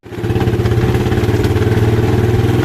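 Motorcycle engine starting up and then idling close by, loud and steady with a rapid, even pulsing throb.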